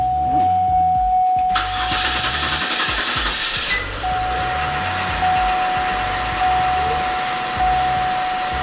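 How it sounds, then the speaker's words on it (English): A Cadillac STS engine cranks with a brief rasping starter whir, catches, and settles into a steady, loud idle with a constant tonal hum running throughout. "Now let's start the car up."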